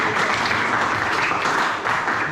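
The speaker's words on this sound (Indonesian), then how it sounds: "Tekan tepuk tangan dulu untuk teman saya." Students in a classroom applaud a classmate, a brief, close burst of dense clapping that stays loud and steady with a slight dip near the end.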